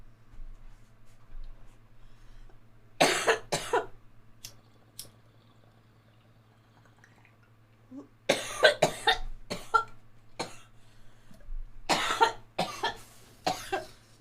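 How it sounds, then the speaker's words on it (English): Several bursts of coughing, attributed to allergies, come in clusters of harsh, close coughs separated by quiet stretches with a low steady hum underneath. "Excuse me, I had a cough from my allergies."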